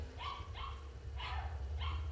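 Dogs outside a house in the Philippines bark in repeated yapping bursts, four sharp barks spaced about half a second apart, moderately close over a low steady background hum.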